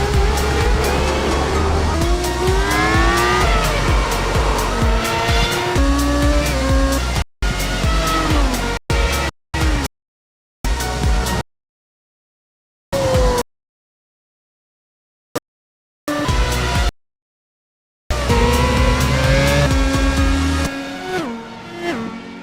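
Race cars roaring together into turn one at the start of a Daytona sim-racing event, a loud, dense engine drone with shifting pitch, broken by several abrupt cuts to silence before the pack noise returns and fades.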